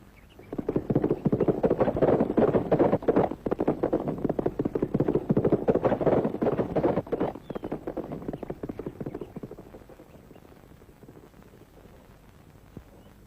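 Horses' hooves clip-clop at a stable, a dense, steady run of hoofbeats close by that gradually fades to quiet near the end.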